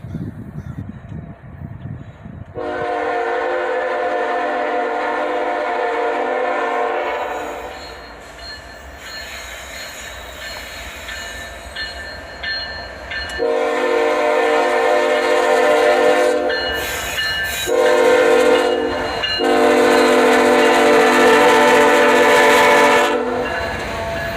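Loud, sustained horn blasts ring out from a passing Canadian National freight train led by a pair of SD40-3 locomotives, broken by short gaps, over a constant rumble and rattle of rolling cars.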